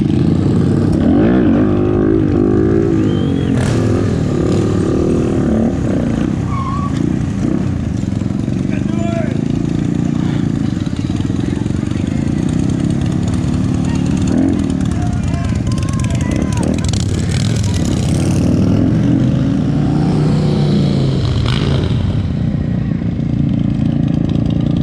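Sportbike engines rev and drone loudly at a pop-up motorcycle stunt show, a sustained roar with rising and falling pitch sweeps and a dense crowd of talking voices throughout.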